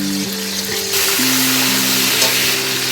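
Ginger paste hits hot fat in a pan for rice pulao and sizzles loudly, the hiss swelling and holding steady, with a low tonal hum running underneath.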